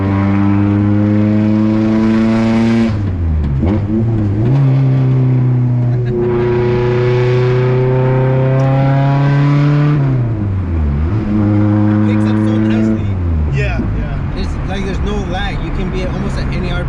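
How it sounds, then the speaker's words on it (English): A 1996 Honda Civic hatchback DX engine revs up and drops back several times, each loud, close climb holding briefly before falling, with no talk over it. "That's what I love about Honda engine,"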